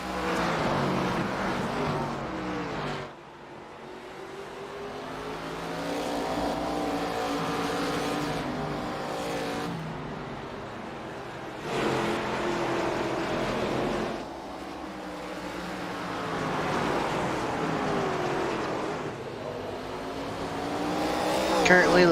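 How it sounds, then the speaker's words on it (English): Race cars at full speed on the Hickory Motor Speedway oval during a qualifying race, engines droning and swelling as cars pass, loud and continuous with commentary talking over the roar throughout. "still driving the car very hard as he starts to attack Joe."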